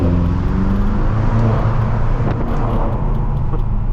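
A BMW M6 engine drones steadily at close range while driving under a bridge in traffic, with road rumble and a brief rising swell midway, no voices.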